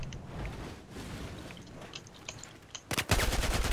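Battlefield 4 gunfire breaking in suddenly near the end as a rapid burst of loud automatic shots after a quieter stretch of game background noise.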